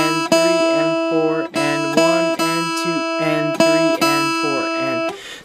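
Guitar strummed in a steady dotted-quarter and eighth-note rhythm during a beginner guitar lesson, chords ringing close and clear in repeated groups with short gaps, no voice over the playing.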